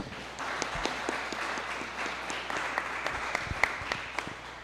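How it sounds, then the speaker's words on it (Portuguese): A church congregation claps at a live worship service, a sustained round of applause with distinct individual claps popping out, moderately distant and without speech. "Vamos aplaudir o Senhor."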